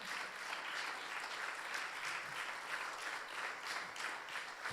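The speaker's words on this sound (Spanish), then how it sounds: "Démosle un fuerte aplauso a Dios" A church congregation claps together during a Spanish-language sermon, a steady, dense patter of many hands that holds at a moderate level without pause.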